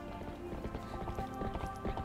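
Horse galloping in the video game The Legend of Zelda: Twilight Princess, a steady rapid clip-clop of hooves under a continuous music bed.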